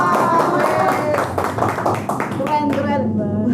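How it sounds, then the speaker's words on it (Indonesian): An audience at a village event in Lampung, Indonesia breaks into brisk applause, a rapid flutter of close claps mixed with voices that tapers toward the end. "Tepuk tangan."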